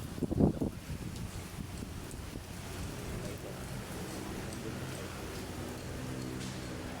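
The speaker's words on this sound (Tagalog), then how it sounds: "Maghapon maulan, may hangin." Steady rain and gusting wind in all-day bad weather make a constant low rushing wash, with a brief louder thump near the start and faint voices underneath.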